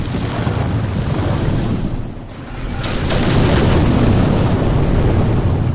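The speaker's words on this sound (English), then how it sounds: "All I see is the explosions." Explosions in a pirate ship video game, steady loud rumbling blasts and booms filling the whole stretch, dipping briefly before swelling again.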